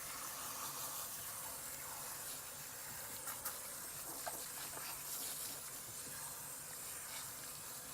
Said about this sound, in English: And so we want to make sure that we're rinsing that properly.